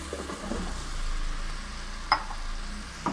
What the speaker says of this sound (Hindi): आलू डालकर मैं इसको भूनूंगी मसाले के साथ अच्छी तरह से